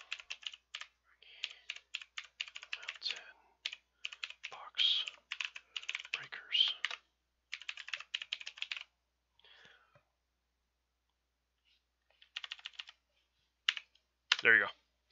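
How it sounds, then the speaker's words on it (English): Rapid typing on a computer keyboard, with bursts of quick key clicks separated by short pauses and a faint whisper-like voice at moments, close and fairly quiet. "I am typing in the email right now."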